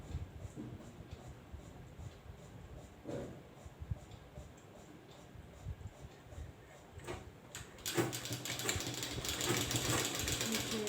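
A sewing machine stitching a simple blouse, its mechanical whir running steady at low level, then growing louder and denser toward the end as stitching picks up.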